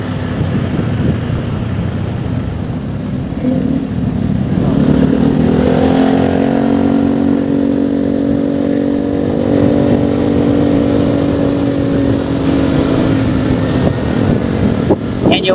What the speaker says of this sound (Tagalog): bardagulan na naman tayo ngayon sa traffic, rush hour